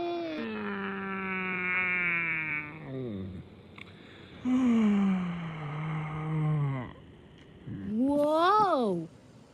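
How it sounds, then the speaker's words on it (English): Three long, voiced yawns from animated characters in a yawning contest, each drawn out with a sliding, falling pitch and separated by short pauses, the last one rising and sharper. "That was the biggest yawn I ever heard!"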